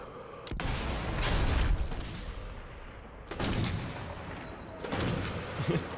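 Rapid bursts of gunfire in Sniper Elite V2 Remastered, dense and loud, with sustained volleys sweeping through the scene and a fresh surge near the end.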